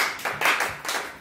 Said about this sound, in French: Acclamons très fort pour la gloire du Seigneur